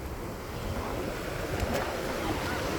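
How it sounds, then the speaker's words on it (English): Ocean waves at El Espino beach roll and wash in a steady, loud roar, close to the microphone, with some wind noise over the surf. "There's a big wave that we're gonna jump."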